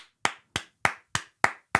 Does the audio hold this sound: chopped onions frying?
no